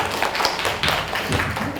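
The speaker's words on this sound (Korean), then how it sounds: "자, 다시 한번 우리 임평 선생님께 박수로" A university lecture audience claps in a dense, continuous burst of applause, close and steady throughout.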